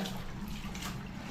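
Water runs and splashes steadily close by while clothes are washed, with no clear speech over it.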